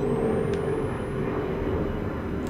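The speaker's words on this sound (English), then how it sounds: "A lot of fucking planes taking off." Airplanes taking off in the horror video game Outlast, a steady low rumbling engine drone with a faint rising whine overhead.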